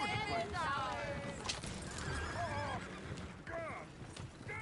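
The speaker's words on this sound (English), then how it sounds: "Oh, shit, the horses!" Several horses neigh and whinny in Red Dead Redemption 2, with repeated high, wavering calls over steady hoof clatter and background game noise, while voices talk over them.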